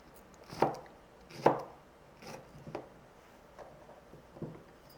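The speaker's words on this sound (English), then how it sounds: "I have cut 1 nectarine into bite-sized pieces" A knife chops a nectarine into bite-sized pieces on a board, a few crisp taps at uneven intervals, the first two strongest, then softer cuts, close and quiet.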